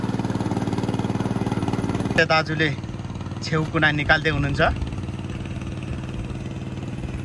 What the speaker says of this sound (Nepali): यसरी ट्र्याक्टर चलाइरहेछ ईश्वर भाइले